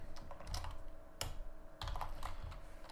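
Typing on a computer keyboard sounds as quick, irregular clicks and clacks close to the listener, with a short pause partway through. It is quiet overall, with no voices.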